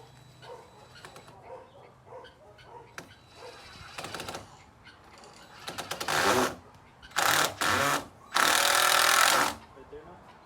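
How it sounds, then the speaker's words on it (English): Screws driven to attach a latch on a chicken coop door, a power driver giving several loud whirring bursts near the end after softer handling clicks, with a voice talking early on. "So let me put these screws on."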